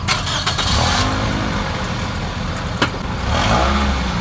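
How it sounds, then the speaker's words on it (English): A 2007 Toyota Corolla LE engine cold starting, with a few sharp clicks and cranking bursts, then the engine catching into a steady idle hum with a slight rev near the end, close and fairly loud. "You are about to witness a cold startup on a 2007 Toyota Corolla"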